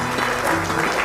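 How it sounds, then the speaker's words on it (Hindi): Audience applause at an indoor corporate launch event in a hotel venue, a steady, dense burst of clapping from a crowd lasting the full second, with no voices on top. "तो एक बार तालियां हो जाए बीडी ग्रीन एंड एचओडी के लिए"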